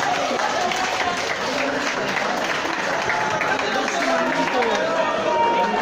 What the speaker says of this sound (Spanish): Vamos a dar un gran aplauso a los luchadores